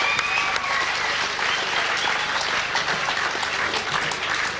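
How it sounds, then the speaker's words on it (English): Crowd applause after a boxing bout, dense, sustained clapping from a large audience at an even level throughout, with faint voices mixed in. "How about another round of applause for these two gallant warriors?"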